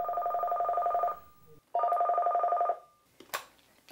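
A telephone at a 24-hour Alzheimer's Association helpline rings twice in clear, close bursts with a pause between, followed by a brief click as the receiver is picked up.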